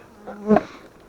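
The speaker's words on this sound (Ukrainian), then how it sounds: "Так, тікайте, тікайте бджоли." A single honey bee buzzes briefly past a hive, rising in loudness as it nears and fading away, against a quiet background hum.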